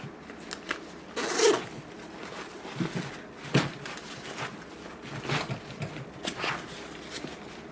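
A zipper on a 5.11 tactical bag is pulled open in several short, scratchy bursts, with rustling and handling noise between strokes.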